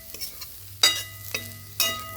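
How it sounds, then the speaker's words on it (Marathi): Ginger garlic paste with curry leaves roasting in a pan, a soft steady sizzle broken by a few sharp scraping stir strokes, close and alone. "चांगली खमंग भाजू द्यायचं आलं लसूण पेस्ट."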